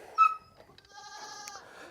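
Heavily pregnant Nigerian Dwarf goats in a maternity pen give two close bleats: a loud, sharp one followed by a longer, quieter, wavering cry.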